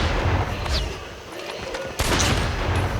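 Gunfire in a one-versus-one shooting video game, loud dense bursts of shots filling the opening second, a brief lull, then a sharp blast at two seconds followed by more rapid firing.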